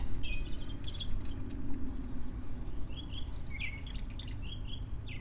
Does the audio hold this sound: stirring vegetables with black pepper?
no